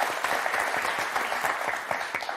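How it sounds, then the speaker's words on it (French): Studio audience applause on a French word-game TV show, a steady, dense burst of clapping lasting a couple of seconds with no talk over it. "On vous applaudit."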